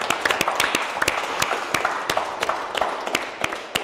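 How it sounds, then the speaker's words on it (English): A small group applauds tattoo artists, a steady patter of close, sharp claps going on without a break, with no talk over it. "Round of applause for you guys."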